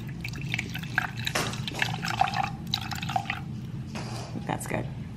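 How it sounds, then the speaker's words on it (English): Apple juice pours and trickles into a glass in short bursts, with drips, while a person talks over it. "Let me pour some apple juice."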